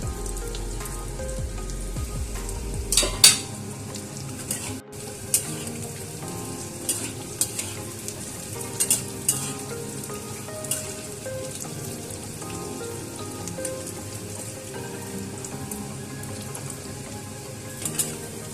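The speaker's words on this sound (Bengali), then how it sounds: "এটা গ্যাস মিডিয়াম আঁচে রেখে করলে কপিটাও সেদ্ধ হবে এবং খুব মুচমুচে খেতে হবে।" Cauliflower pakoras frying in oil over a medium flame, a dense crackling sizzle with light scrapes and taps of stirring scattered through it, close and steady with no voices.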